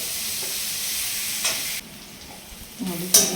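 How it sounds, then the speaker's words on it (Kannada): Onions frying in a pan with a steady hiss, interrupted by stirring scrapes and clinks, the sizzle dropping partway through before the stirring resumes. "ಈರುಳ್ಳಿ ಎಲ್ಲ ಚೆನ್ನಾಗಿ ಫ್ರೈ ಆಗಿದೆ ಮೆತ್ತ ಮೆತ್ತಗೆ"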